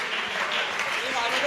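An audience applauds at a gathering in a steady, dense wash of clapping that lasts the whole short stretch, moderately loud with faint voices mixed in.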